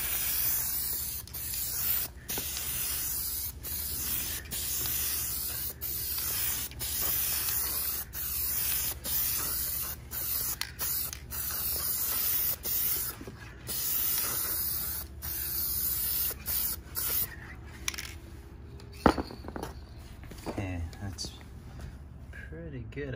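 A spray can paints a Lexus LS430 grill in a steady, close, continuous hiss, broken by brief pauses between passes, with the nozzle bursts running nearly the whole time.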